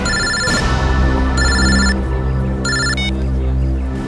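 An electronic phone ringtone plays in three bursts of about half a second each, separated by pauses, loud and clear over a low background hum with no talk.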